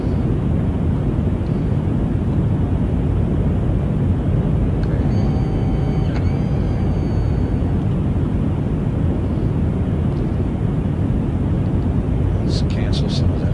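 A jet climbs and accelerates toward Mach 2 in a flight simulator game, producing a steady, loud engine roar and rushing wind that stays constant throughout, with a few faint tones and clicks near the end.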